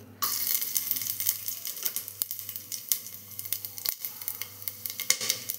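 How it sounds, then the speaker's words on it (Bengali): Whole cumin seeds and whole garam masala crackle and sizzle in smoking-hot oil, a steady close-up fry with scattered sharp pops and ticks throughout and no voices. "এবারে এই যে জিরে, গোটা জিরে আর গোটা গরম মশলা ফোড়নে দিয়ে দেবো"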